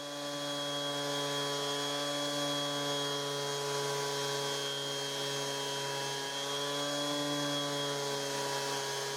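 An orbital sander sanding wood paste on a wooden frame whirs in a steady, even electric drone with a high whine, running continuously without pause.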